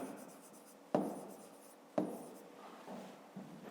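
Numbers written by hand on paper during a fifth-grade math division exercise, three distinct pen strokes each starting with a sharp tap and trailing scratch, close and quiet, no talk.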